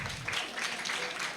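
Children clapping together at a church puppet show, a short burst of steady, close applause with a faint voice in the background.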